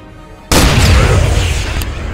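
A rocket explosion in ArmA 3, one sudden loud boom after a brief quiet, followed by a long rumbling tail that fades slowly.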